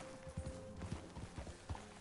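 Horse hooves clip-clop steadily in Red Dead Redemption 2, a run of evenly spaced thuds close by over a low hum of game ambience, with no voices.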